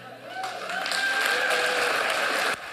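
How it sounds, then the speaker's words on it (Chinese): Supporters in a crowd break into applause for President Biden at a rally, a sustained broad clapping wash that holds steady and then cuts off abruptly near the end. "台下支持者一片掌声"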